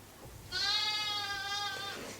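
A sheep bleats once in a long, wavering cry that rises clearly above a quiet background, inside a garage pen on a Norwegian sheep farm during lambing season, where ewes are kept with their young lambs.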